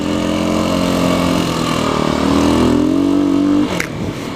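A dual sport trail bike, either a Kawasaki KLX250S or Yamaha XT250, revs its single-cylinder engine on a dirt trail, a loud close buzzing drone that climbs in pitch, holds, then drops off sharply.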